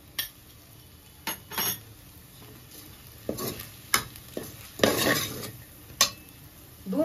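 Grated fresh coconut being stirred and roasted in ghee in a pan, with repeated scraping strokes of a spoon against the metal and a soft sizzle underneath, close and moderately loud.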